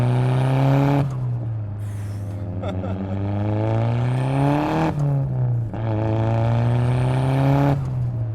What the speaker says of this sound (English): Nice pops from the exhaust, very welcome.